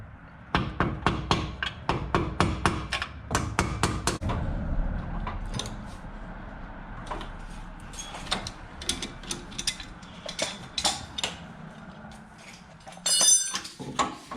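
Repeated mallet blows knocking a rear shock absorber free on a Lexus GX470, a burst of sharp metallic strikes in quick succession at first, then scattered, sparser hits and clanks over a steady background.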